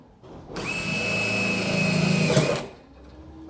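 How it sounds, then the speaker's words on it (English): A power drill with a hole saw whirs steadily at close range for a couple of seconds, its pitch shifting slightly as the pilot bit bores through, then stops. "My pilot hole went through."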